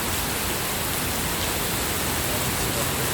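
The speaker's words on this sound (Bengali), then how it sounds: "কি সুন্দর বৃষ্টি পড়তেছে" Steady rain pours down outdoors on a dark, overcast day, a dense continuous hiss with no breaks, fairly loud and close throughout.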